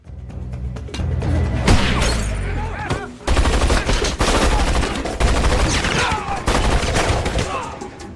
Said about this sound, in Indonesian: tiba-tiba Tim tersandung sehingga tembakan Agen Cruz meleset.